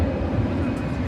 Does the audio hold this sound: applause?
no